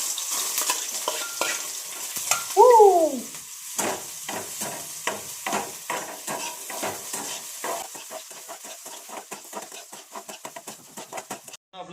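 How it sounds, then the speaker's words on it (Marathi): Chopped onion for poha poured into hot oil in a pan: an ongoing crackling sizzle with a rhythm of short stirring scrapes throughout, and a brief bird call briefly rising above it near the start. "असं टाकून बघायचा आवाज आला काय सगळा कांदा ओततो"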